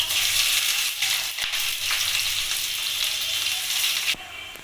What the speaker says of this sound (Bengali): আমি অর্ধেকটা পেঁয়াজ কড়াইতে আমি দিয়ে লাল করে ভেজে নেব।